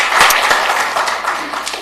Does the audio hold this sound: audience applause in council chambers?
yes